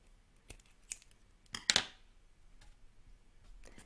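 Sharp scissors trim excess fabric from a small folded kanzashi petal at close range: a few quiet isolated snips, then a louder crisp double cut, in otherwise quiet surroundings.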